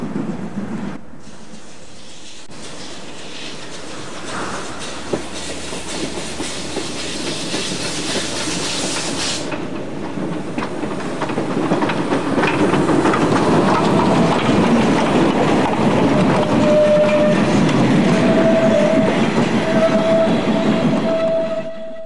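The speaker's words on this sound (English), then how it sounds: "Branch train departing for Harzquerbahn." A Harz narrow-gauge steam train departs on a branch line, with loud rolling rumble and clatter building up after a quieter start, and a sustained horn or whistle tone sounding near the end.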